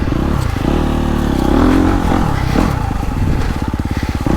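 A KTM 350 SX-F four-stroke dirt bike engine runs loud and close, revving up and down with a rough, throaty clatter that turns into a rapid pulsing toward the end.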